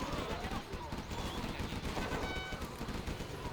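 Rapid, continuous gatling gun fire from the real-time strategy game Command & Conquer: Generals, a dense rattling burst running throughout with other battle sounds mixed in at moderate level.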